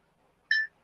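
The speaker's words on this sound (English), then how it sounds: "There's an alarm that I need to quench right now." A single short electronic alarm beep, clear and fairly loud against near-silence, lasting a fraction of a second and heard alone.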